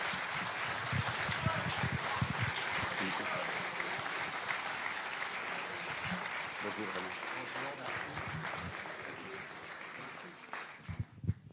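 Lecture audience applauding economist Thomas Piketty at a master class, warm sustained clapping from a full room that holds steady and then thins out and stops near the end.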